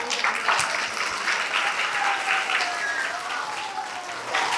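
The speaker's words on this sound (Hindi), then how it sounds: "चलिए ताली बजा दीजिए आप लोग भाई।" Sustained applause from a village audience in rural Bihar, a dense even clatter of many hands clapping continuously throughout at steady loudness, with a faint voice briefly audible beneath.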